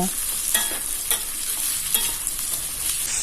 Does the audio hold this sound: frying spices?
yes